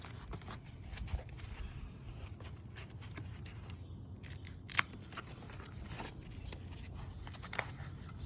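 Scissors snip excess material off an AliExpress carbon-fiber-style Sard replica rear wing for an NC Miata, a quiet steady run of close, crisp cuts with a couple of sharper snaps and no talking.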